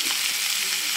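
Onion, ginger and tomato sizzle and fry steadily in a hot kadai, a dense, continuous crackling hiss held close and loud for the whole second, with no talking.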